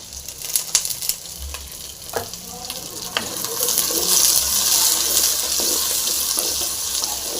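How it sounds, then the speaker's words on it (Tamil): Onion, grated coconut, pepper, cumin and fennel frying in a pan for a chicken gravy, a steady close sizzle with occasional stirring clicks and scrapes. "நல்லா ஃப்ரை ஆகட்டும் கூடவே பச்சை மிளகாயும் போட்டுடலாம்"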